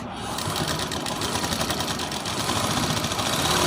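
A sewing machine runs steadily, stitching a suit along a strip of fabric, its fast even whir and needle rattle continuous and close throughout.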